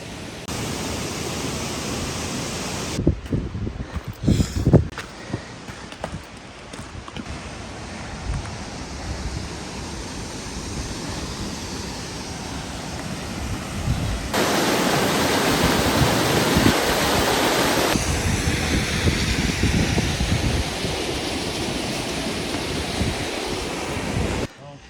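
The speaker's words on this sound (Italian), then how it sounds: "Adesso stiamo alle cascate, un bellissimo posto berbero." A waterfall at a Berber site in Tunisia roars as a continuous broadband rush that swells louder midway, mixed with wind buffeting the microphone and occasional faint voices.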